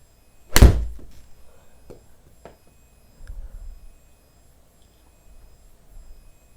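A golf drive on a Garmin Approach R10 simulator setup gives one sharp, solid thunk of club on ball indoors, followed by a few faint knocks and soft thuds in a quiet room.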